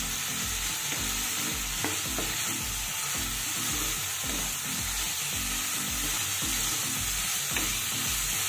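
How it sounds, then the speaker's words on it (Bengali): Spice masala with tomato is stirred and fried in a pan, with a continuous loud sizzle and a rapid, regular scraping of the spoon running throughout, and no voices. "আমি আবারও একটু কষিয়ে নিচ্ছি।"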